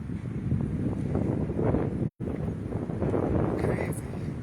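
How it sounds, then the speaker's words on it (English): Strong March wind outdoors buffeting the microphone with a steady, loud roaring rumble that continues through the clip, broken by one brief dropout. "got a bit of a wind out here"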